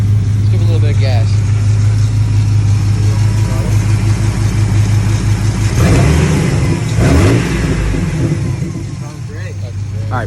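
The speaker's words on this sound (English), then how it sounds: "Let's give it a little bit of gas." A truck engine running with its MAP sensor unplugged idles loudly and steadily, then is given some gas and rises into a brief rev before settling back down, with no talk.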